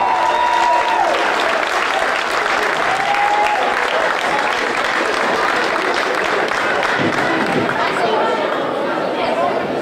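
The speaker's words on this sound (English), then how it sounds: "Let's give Kevin Durant a round of applause." Gymnasium crowd applauding Kevin Durant with steady, dense clapping that fills the whole stretch, mixed with cheering and crowd chatter, loud and continuous throughout.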